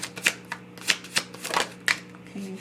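Tarot cards shuffled and drawn from a deck at close range, a run of quick crisp riffles and slaps in uneven bursts, with no talk.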